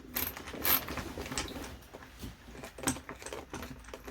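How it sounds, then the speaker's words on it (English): A grill screw being turned out with a T20 Torx bit on a JL Wrangler grill, giving faint, close, irregular ratcheting clicks and small metallic ticks with no talking. "Should give you an idea of how long it takes to unscrew one"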